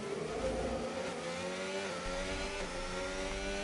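A Formula 1 race car in the F1 25 video game accelerates out of the pit lane, its high-pitched engine note climbing steadily through the gears, loud and continuous with no talking over it.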